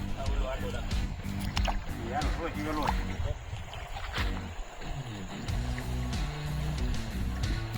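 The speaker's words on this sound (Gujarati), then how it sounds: "જુઓ તમે પાણી ચાલુ છે અત્યારે" Irrigation water runs and sloshes steadily along a field channel in a chickpea field, a continuous close rush with someone talking over it throughout.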